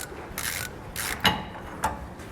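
A ratchet wrench loosens a bolt on the rear suspension of a 2015 Chevrolet, clicking in several steady, close bursts with two sharper metallic knocks between them, and no voice.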